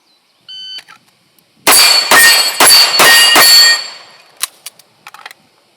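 Rapid gunshots striking a steel Texas Star target, each crack followed by a bright ringing clang from the plates. Five loud shots fire in quick succession, then lighter metallic pings and rattles follow as the star spins.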